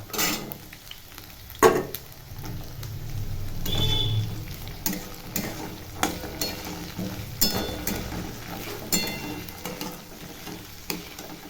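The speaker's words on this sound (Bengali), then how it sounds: "এটা একটু হালকা নেড়ে নিয়ে তারপরে মশলা দেবো।" A spoon stirs and scrapes lightly fried cabbage, potatoes and peas in a pan, with soft steady sizzling and repeated clinks and scrapes against the metal. No one speaks.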